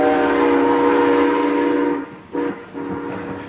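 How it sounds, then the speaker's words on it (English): A passing train, a loud steady rumble with strong tonal hum filling the first two seconds, then briefly dropping away and returning slightly quieter as the cars continue by, with no voices. "this train's passing at a good clip"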